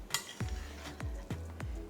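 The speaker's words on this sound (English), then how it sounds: "you wanna just mix it up nicely with a very delicate hand" Biryani being gently mixed in a pot, with a handful of soft scraping strokes and light clinks of a utensil against the metal, evenly spaced and close by.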